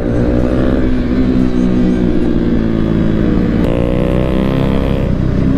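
A motorcycle engine runs loud and close throughout with a steady droning tone, the pitch shifting as it passes, while a rider leans it during a near-crash ride.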